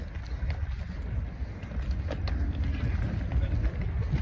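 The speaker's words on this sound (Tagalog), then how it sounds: "napakalakas ng hangin dito" Strong, steady wind buffets the microphone with a constant low roar and rumble throughout, with occasional faint gusting bursts.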